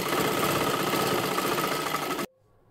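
A sewing machine runs steadily, stitching a folded strip for a princess-style blouse, with a loud, continuous whirring motor that cuts off abruptly near the end, leaving near silence.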